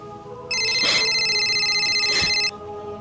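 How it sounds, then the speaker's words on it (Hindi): A telephone rings nearby with one sustained electronic trill lasting about two seconds over a faint background hum. "किसका फोन है?"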